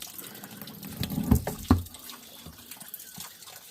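Water from a garden hose splashes over a tumbler lid as it is rinsed outdoors, with a steady faint flow and two louder splattering bursts partway through.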